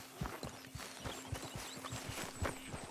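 Horse hooves clip-clopping at a walk in the video game Red Dead Redemption 2, a soft, uneven run of muffled thuds over a steady low hum and ambient background, fairly faint.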